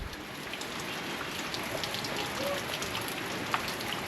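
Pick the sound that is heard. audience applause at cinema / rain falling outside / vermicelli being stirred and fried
rain falling outside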